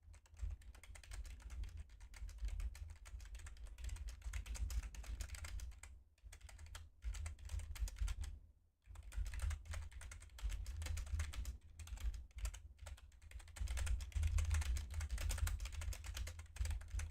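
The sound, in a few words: typing on a computer keyboard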